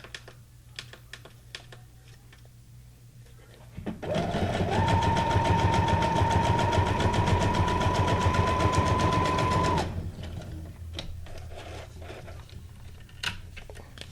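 A domestic sewing machine running decorative stitch number 17 on scrap fabric: a steady, rapid mechanical whir with fast needle clatter lasting about six seconds, preceded and followed by quiet handling clicks.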